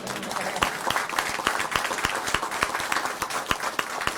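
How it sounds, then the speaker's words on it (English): Applause from an audience at a police press conference, with sharp individual claps standing out from the steady patter of a modest crowd that keeps clapping throughout. "I think that deserves an applause."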